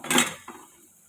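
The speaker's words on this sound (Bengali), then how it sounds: "এবারে আলুগুলো দিয়ে দেবো।" Fried potatoes go into a pot of mutton curry with a short metallic clatter of spoon against the pot, followed by a softer second knock and a brief fading scrape, close by, with no talk.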